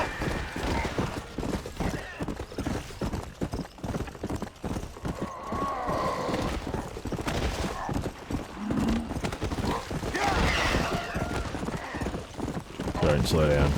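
Galloping horse in Red Dead Redemption, rapid rhythmic hoofbeats with an occasional neigh, heard under someone talking excitedly throughout.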